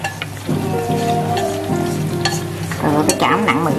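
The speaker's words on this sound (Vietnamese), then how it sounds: "lấy cái chảo xào bông que" Green beans stir-fry in a pan, a loud close sizzle that swells as the beans are tossed, with scraping and clattering of utensil against metal.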